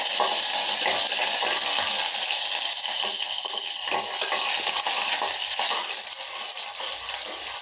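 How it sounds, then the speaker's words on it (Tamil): Mustard seeds splutter in frying oil, a loud, close, continuous crackling and popping sizzle that stays steady from start to end. "கடுகு பொரியுதுங்க."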